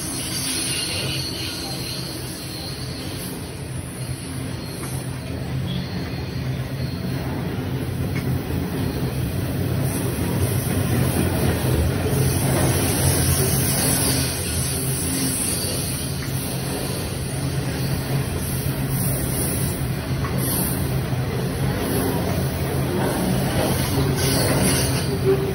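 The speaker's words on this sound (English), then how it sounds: "Freight train coming through Parramatta Station" A long coal freight train rolls by close up through Parramatta Station, a steady heavy rumble building and holding, with squealing wheels and rhythmic clatter over the rails.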